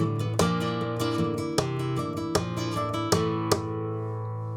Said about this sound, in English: Now, that's a perfectly good Bulerías basic compass phrase.